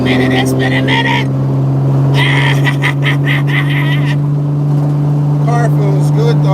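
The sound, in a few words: car engine driving in a video game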